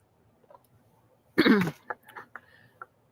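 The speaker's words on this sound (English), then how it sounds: "I am clearing my throat a little too often." One loud, rough throat clearing, followed by a few softer, short throaty noises; no talking.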